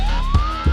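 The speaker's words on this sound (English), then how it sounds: "I think I hear a siren in fact," A loud police siren wails close by, its pitch sweeping steadily upward, with two low thumps of bass underneath.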